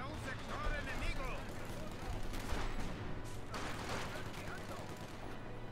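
Continuous rattling machine gun fire from a World War II battle in Company of Heroes 2, dense bursts under layered battle noise while people talk over it.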